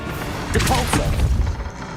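Depulso force spell cast in the Hogwarts Legacy video game, a short burst of booming, whooshing impact noise lasting about a second, fairly loud against steady game ambience.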